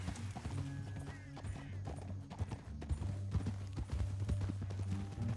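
Horse hooves clip-clop at a steady walking pace in Red Dead Redemption 2, moderately close, under a low droning score and ambient game sound.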